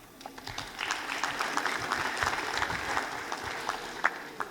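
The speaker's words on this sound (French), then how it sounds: "on peut les applaudir" An audience at an opening plenary session claps in a moderate, steady burst of applause, individual claps audible, building gently and holding for several seconds.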